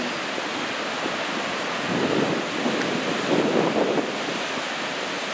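Niagara Falls pours as a steady, loud roar of rushing water, blended with wind buffeting the microphone and swelling slightly in the middle, with no voices.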